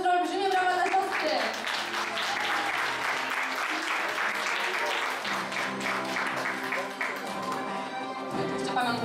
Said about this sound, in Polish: olbrzymie brawa dla siostry